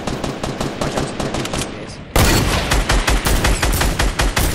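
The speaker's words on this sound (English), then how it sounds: "The miniguns are coming out." Minigun fire in Fortnite rattles in fast continuous bursts, first somewhat muffled and then suddenly much louder and closer, pounding on without pause to the end.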